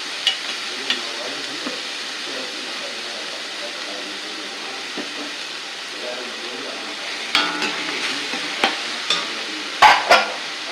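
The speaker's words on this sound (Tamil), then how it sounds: "இப்போ இந்த வெங்காயம் இன்னும் வதங்கிட்டு இப்போ நம்ம ஸ்டீம் குக் பண்ண பீட்ரூட்டை போட்டாச்சு" Onion and steamed beetroot sauté in a pan, giving a steady low sizzle with occasional scraping stirs and clicks that grow more frequent toward the end.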